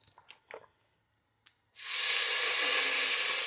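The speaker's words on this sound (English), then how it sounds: "we're going to deglaze the pan" Beef broth poured into a hot pan for deglazing erupts into a sudden, loud, sustained sizzle and hiss after a few soft clinks, holding steady to the end.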